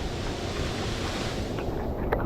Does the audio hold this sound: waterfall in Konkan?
yes